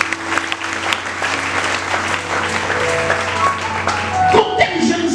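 A church congregation applauds in dense, steady clapping that fills the space, with a few voices rising over it near the end.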